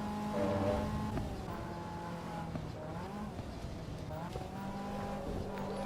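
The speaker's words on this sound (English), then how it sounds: "the air filters noise when you go on throttle" Engine note with air-filter intake noise on throttle from a car in the Assetto Corsa EVO racing game, a steady sustained drone with rising and falling pitch, moderately quiet and continuous with no talk.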